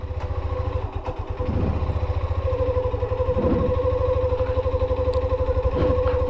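A Hero Xtreme 125R motorcycle engine runs in third gear without throttle, giving a close, steady, rapidly pulsing thrum that grows slightly louder after the first second and holds even throughout.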